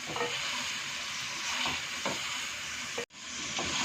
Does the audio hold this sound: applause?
no